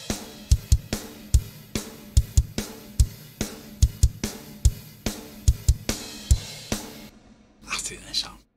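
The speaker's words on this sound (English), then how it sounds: "So the drums altogether sound like this." Full mixed drum kit processed with free plugins and light limiting, a punchy kick-and-snare groove with bright cymbals playing loudly and steadily, stopping near the end.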